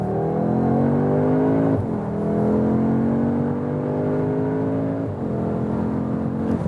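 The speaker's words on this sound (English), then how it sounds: "when we accelerate out of the corner here now" A 2021 Audi S3 Sportback accelerates out of a corner, its engine rising steadily in pitch through the gears with brief dips at two shifts, heard loud from inside the cabin.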